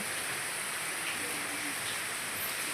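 Heavy rain falls in a steady, soft hiss, fairly quiet and even throughout, with a faint voice present beneath the patter.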